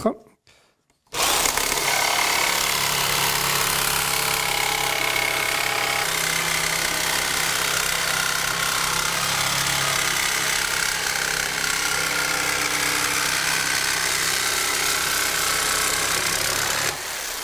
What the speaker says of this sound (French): La scie sauteuse permet de faire des découpes de tôle jusqu'à, on va dire, 2 mm